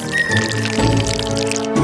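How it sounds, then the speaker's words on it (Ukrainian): Sauce is poured into a kettle holding noodles, giving a close, continuous liquid pour with a thick, gurgling texture that lasts about two seconds without speech. "Заливаємо туди соус."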